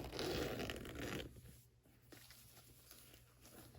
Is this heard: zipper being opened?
yes